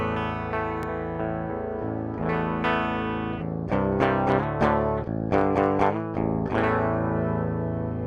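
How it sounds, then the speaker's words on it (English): Clean direct-input electric guitar with no amp simulation, strummed chords and single notes ringing in a dry, thin tone, played alone at steady volume. "let me just show you how the guitar sounds without the plugin"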